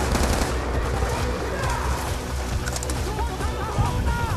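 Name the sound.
gunfire in the video game Call of Duty: Black Ops II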